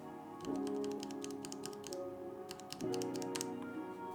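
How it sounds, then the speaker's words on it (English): Keys on a mechanical keyboard with Cherry MX Speed Silver switches clatter in two quick runs of close, crisp presses, separated by a short pause, over a steady low background hum. "There are exceptions, like these Cherry MX Speed Silver switches."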